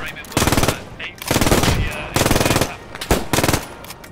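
Loud bursts of machine gun fire in the World War II shooter Squad 44, four sustained rapid volleys of roughly half a second to a second each, separated by brief pauses.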